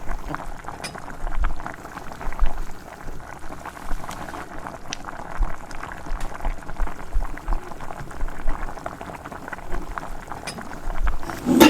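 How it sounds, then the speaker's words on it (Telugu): Tamarind juice curry simmers and bubbles steadily in a pot as pieces of chanduva (pomfret) fish go in for chepala pulusu, a soft continuous boiling fizz with occasional splashes and plops, close and fairly loud. "ఇప్పుడు కట్ చేసి పెట్టుకున్న ఈ ఫిష్ పీసెస్ని ఇందులో వేసుకోవాలి"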